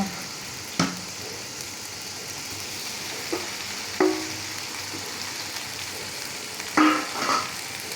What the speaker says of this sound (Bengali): ভাজা হয়ে গেছে, মশলা থেকে তেলও ছাড়ি দিছে, আমি এখন ডেরেসটি দিব।